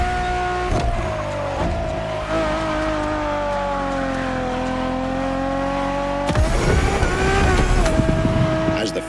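Ferrari Enzo supercar engine in The Crew Motorfest racing game: a loud, steady, close engine drone whose pitch sags slowly then climbs, breaking abruptly into a rougher, louder, harder-revving roar near the end.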